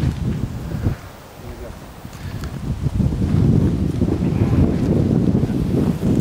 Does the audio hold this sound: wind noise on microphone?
yes